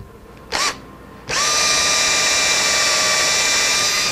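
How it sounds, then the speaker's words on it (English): A power drill gives a short whirring burst, pauses, then spins up into a loud, steady high-pitched whine drilling straight down into MDF in a woodshop. "And just drill straight down"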